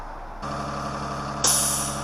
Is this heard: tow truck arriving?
yes